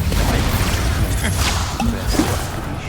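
Expulso spell detonation in Hogwarts Legacy, a loud crashing blast with whooshing and smashing debris rolling through almost three seconds of heavy low rumble.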